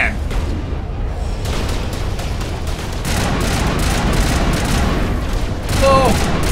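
Rapid bursts of gunfire from a gun in the Mass Effect game, dense and continuous across the whole stretch, with heavier booming impacts mixed in and a burst of electronic chirps near the end.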